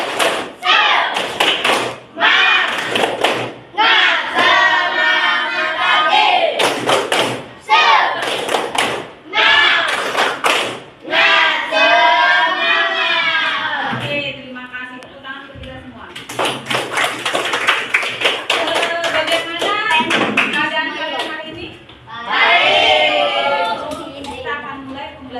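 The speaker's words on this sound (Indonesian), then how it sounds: "Oke, tepuk semangat." Indonesian-language class doing the tepuk semangat clapping cheer, sharp rhythmic claps in patterned bursts mixed with children's chanting voices, loud and close, with pauses between sections.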